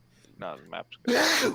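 A single sharp sneeze near the end, loud and close, following a few brief spoken words at normal volume.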